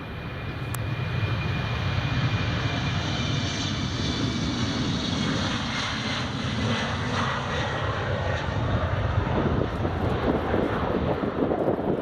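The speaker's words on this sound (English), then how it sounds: "British Airways is rolling, and the A320 is on final." A British Airways airliner roars down the runway on its takeoff roll at Edinburgh Airport, a loud, sustained jet engine rumble with wind buffeting the microphone throughout, no talk over it.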